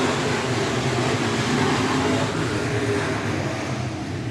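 SportMod race cars roaring back up to speed on the Clay County Speedway dirt track after a restart, a broad, continuous engine rumble heard from a distance with no distinct passes.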